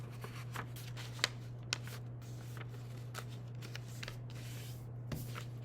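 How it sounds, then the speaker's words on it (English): A sheet of paper is folded in half horizontally for a diorama: quiet, scattered crinkles and soft creasing taps over a faint steady hum, with no voices. "you're going to fold this paper in half horizontally"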